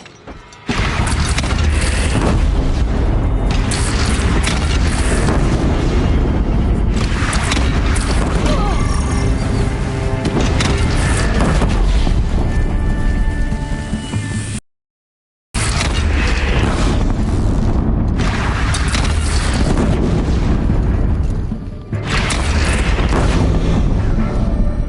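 Cannon fire in the Horizon Zero Dawn video game: heavy booming blasts over a dense, continuous battle din with mechanical clanks, loud throughout, with a brief silent gap midway.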